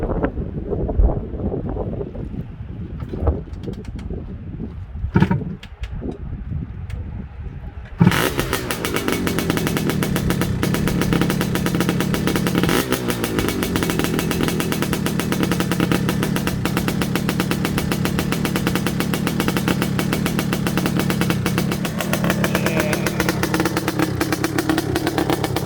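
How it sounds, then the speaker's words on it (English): A Honda TRX250R ATV with an aftermarket pipe is cranked a few times, then fires up and runs continuously. The loud, raspy two-stroke idle holds steady with occasional revs, heard up close in cold, windy outdoor air. "Let's start up the 250R though, because you guys gotta hear the LED pipe."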